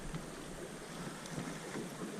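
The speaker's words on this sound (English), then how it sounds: "It's a windy day today, folks." Steady wind buffeting the microphone, a continuous broad rushing roar with slight gusts and no voices.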